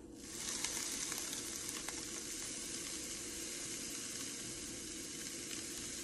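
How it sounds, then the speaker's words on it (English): Sand pours steadily through a paper funnel into a bottle during a stress ball craft, a soft, continuous hiss that starts abruptly and holds an even level, close and quiet, with no talking. "Pour the sand in through the funnel."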